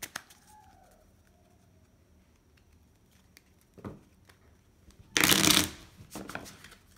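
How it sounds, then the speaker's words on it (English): A short burst of cards being riffle-shuffled, a quick fluttering rattle in a quiet room, followed by a softer tap or two. "I will give these just a quick shuffle."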